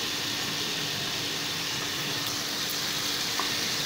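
Spice paste frying in oil over medium heat for a hilsa fish curry gives a steady, even hiss of close sizzling, with no talk.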